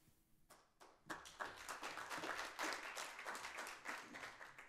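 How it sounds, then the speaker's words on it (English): An audience at a Sugar Land city council meeting breaks into a round of applause. The clapping is fairly faint and starts with a few scattered claps before swelling into steady applause from the whole room. "That round of applause is actually for everyone else in this room"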